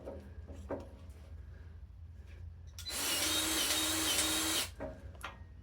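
A grease gun pumps grease into a fitting on construction machinery, heard as a steady mechanical whir lasting under two seconds, framed by quiet clicks and handling knocks.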